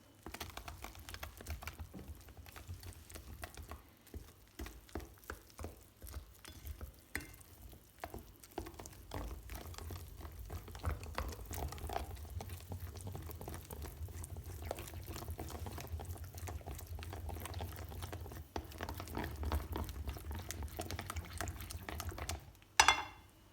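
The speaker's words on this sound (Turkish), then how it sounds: "Öncelikle şu şekilde karıştıracağım." Milk bread dough with sugar being mixed by hand in a bowl: a steady, soft, wet stirring and squelching texture that runs continuously, close up, with no talk.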